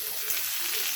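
Tomatoes hit hot oil over onions fried until red, a dense, steady sizzle that stays close and loud for the whole moment with no voices.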